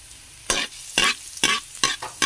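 Garlic fried rice (sinangag) in a pan gives five loud, short bursts of sizzling and scraping as it is stirred, separated by brief quieter gaps, with no talking.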